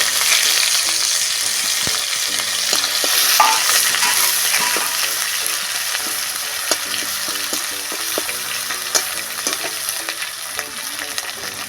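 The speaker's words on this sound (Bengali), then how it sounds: "তেজপাতা দিয়ে দিচ্ছি জিরে আর পাঁচ ফোড়ন তেলের মধ্যে দিয়ে দিচ্ছি আদা কুচি" Bay leaf, cumin, panch phoron and chopped ginger fry and get stirred in hot oil for an eggplant and tomato bharta, a loud continuous sizzle with scattered stirring clicks, close and without talk.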